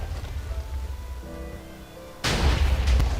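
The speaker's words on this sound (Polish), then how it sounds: "Ona jak coś była cała wypełniona od środka, więc to może trochę potrwać to całe wybuchanie." TNT blows up in Minecraft, with a rumbling low roar giving way to a sudden loud burst of explosions that keeps booming through to the end.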